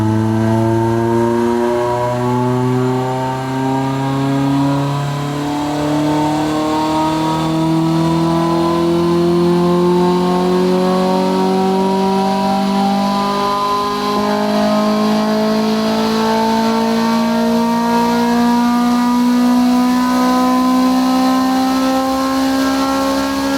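A Toyota MR2 Spyder with a 2ZZ engine revs steadily on a dyno, its loud engine note climbing smoothly in pitch through a long sustained pull with no talk over it.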